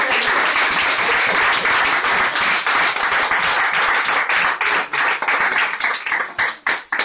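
A church congregation clapping during a sermon on the Lord's Prayer, dense rhythmic applause that is loud and sustained, then thinning into scattered claps toward the end.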